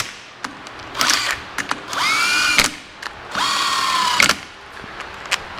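A power tool runs bolts down on a Bennche 800 motor in two whirring bursts of about a second each, with rising pitch, close and loud, separated by short clicks and taps of handling, with no talking.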